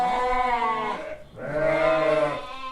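Gissar sheep at a livestock market bleat twice in a row, loud and close, each call long and wavering with a short gap between.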